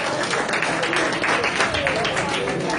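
An audience claps at a handing-over ceremony, a dense, steady patter of many hands filling the room at moderate loudness.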